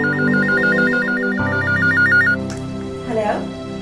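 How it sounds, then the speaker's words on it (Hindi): An electronic telephone ringtone trills in a repeating warble for a couple of seconds and then stops abruptly, after which a voice begins speaking. "फोन बंद कर दो।"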